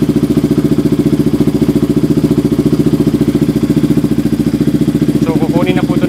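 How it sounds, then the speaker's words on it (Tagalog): A KTM RC 200 motorcycle engine runs at a high idle with an oxygen sensor fault, a loud, close, even and rapid mechanical pulse that stays steady throughout, with a brief voice-like sound near the end. "ito na yung andar ng motor"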